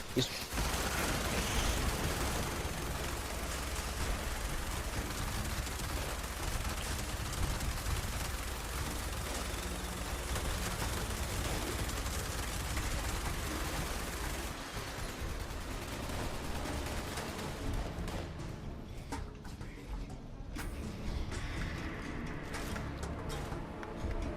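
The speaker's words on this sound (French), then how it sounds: "Partez plutôt par la droite et on ouvrira le feu pour vous couvrir." Gunfire in the video game Fallout 76: a dense, sustained fusillade of shots and explosions running almost continuously at high level, with voices talking over the battle.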